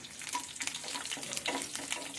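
A green chili drops into hot oil with garlic already frying, giving a brief burst of crackling, spitting sizzle, fairly close and moderate in volume over a short stretch.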